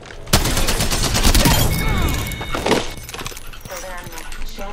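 The Spitfire gun fires in Apex Legends, with bursts of rapid automatic gunfire that are loud and dense at first and then give way to scattered shots and clatter, while a voice talks over them.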